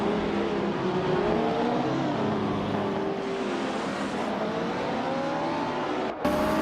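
Race car engines in a racing video game drone steadily with rising and falling revving pitches as several cars run close together, loud and continuous. A brief break comes near the end, and there is no talk.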